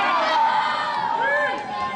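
Crowd at an independent pro wrestling show cheering for wrestler Cherry Dahl, a dense, loud roar of shouts and yells with a few high voices rising above it, no clear speech.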